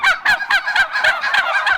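Turkeys gobble in a farm shed full of growing birds raised for Christmas, a dense, continuous chorus of overlapping rapid gobbles pulsing several times a second, close and loud, with no talking.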